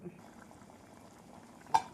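Plain vegetable salna masala gravy simmering in a covered pot on medium heat, a faint low bubbling with a single sharp metallic clink near the end.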